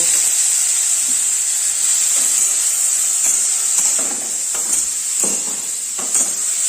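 Onions fry in hot oil with turmeric and salt, giving a steady close sizzle and hiss with occasional soft stirring scrapes and clicks.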